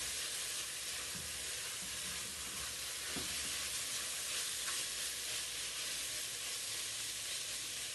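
Mushrooms sizzle and hiss steadily in a hot frying pan for a pasta sauce, a dense, continuous crackle with occasional stirring and no talking.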